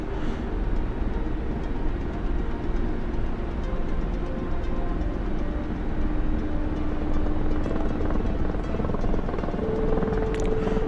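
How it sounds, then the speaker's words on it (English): A helicopter in a video game drones steadily with a low, continuous rotor rumble and whine that holds for the whole stretch, with a faint tonal hum rising near the end and no talking. "Man, they got the sound for helicopters"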